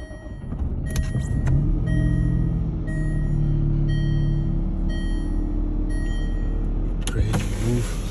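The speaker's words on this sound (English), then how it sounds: "Get in here, fire him up for y'all." A Jaguar F-Type coupe with a misfire is push-button started, its engine catching with a sharp burst and settling into a steady, loud idle rumble, with brief clicks and a whirring motor sound near the start and end.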